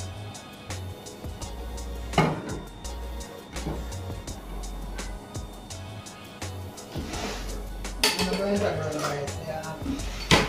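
A utensil stirring a little coconut oil in a pot on a stove, with metallic clinks and scrapes at uneven intervals under a steady low hum, while a voice talks intermittently.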